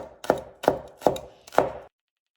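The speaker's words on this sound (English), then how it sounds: "we just have to chop the scallion into very tiny pieces" Scallions are chopped into tiny pieces on a cutting board for stir-fried rice: four evenly spaced, close, crisp knife chops, then silence.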